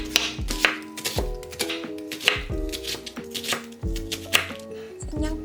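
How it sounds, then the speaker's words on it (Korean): A knife thinly slices an onion on a cutting board, giving quick, steady, close chopping taps over soft background music. "양파를 얇게 썰어주세요."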